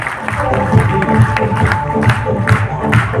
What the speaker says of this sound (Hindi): दोनों हमारे भाई बहन एक बार जबरदस्त तालियां होनी चाहिए